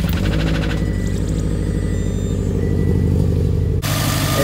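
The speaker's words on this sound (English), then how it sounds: "Start it up and you can hear that knock go." A Subaru WRX STI with a failed ringland starts up, its engine running loud and rough with a persistent low knocking rumble close by, then abruptly changing pitch near the end; no one talks.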